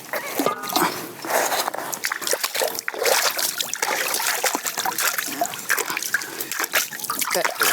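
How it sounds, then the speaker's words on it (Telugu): Fish is being washed with water for a fish fry, with a run of trickles, splashes and splatters close by and a voice heard at times. "మన నేచురల్ వాటర్తో కడుగుదాం ఇప్పుడు"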